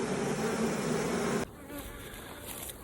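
Honeybees buzzing around an open Langstroth beehive, a close, dense hum that drops suddenly halfway to a quieter, thinner buzz, with no speech.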